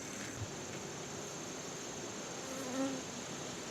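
Steady insect buzzing fills the air, a dense, continuous hum of many honeybees at close range around a hive feeder, with a faint thicker drone swelling near the end.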